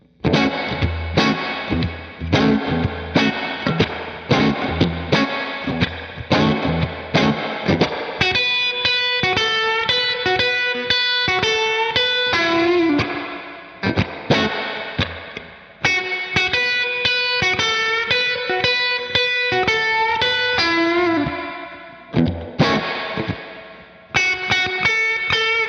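Stratocaster electric guitar played straight into an amp with gritty distortion, chopped rhythmic chords giving way to ringing sustained notes and short riffs, no talking.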